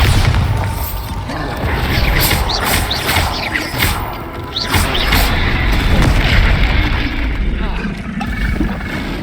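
Loud, booming spell blasts from the Bombarda and Confringo spells in Hogwarts Legacy come in a rapid series of bursts over steady rumbling game audio, with a voice talking throughout.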